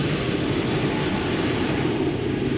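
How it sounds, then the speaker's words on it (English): KLM Embraer E2 jet taxiing outbound for Copenhagen at Schiphol Airport, a steady broad engine roar and rumble that holds constant throughout with no voices. "E2 Embraer outbound to Copenhagen, KLM flight 1129."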